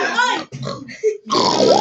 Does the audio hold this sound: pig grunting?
yes